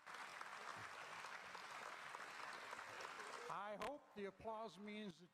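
An audience applauds in a sustained wash of clapping at a talk about the Bible, then fades as a speaker's voice takes over near the end.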